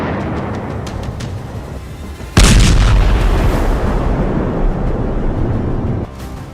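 Bomb blasts and strikes in Lebanon from news footage: a sudden loud booming impact hits partway through and is followed by several seconds of heavy rumbling roar before it cuts back to a lower background rumble.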